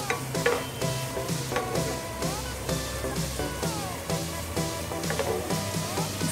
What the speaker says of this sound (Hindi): प्याज अच्छे से फ्राई हो चुका है।